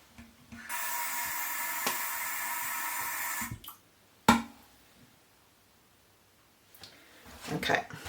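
About 100 ml of cold water pours steadily into a butter mixture for roughly three seconds, followed by a sharp knock and a few quiet handling clatters.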